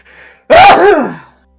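A single loud, close human sneeze, a sharp intake of breath followed by an explosive burst that trails off, heard alone.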